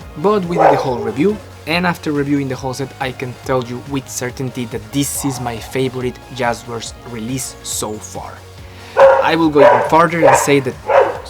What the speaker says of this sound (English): sorry for the dog of the neighbor